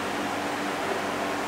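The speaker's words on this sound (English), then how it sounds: "You can hear a fan in the background." Steady broadband whoosh of a fan pulling cooler air into an insulated brewing shed, constant and fairly loud, with no talk.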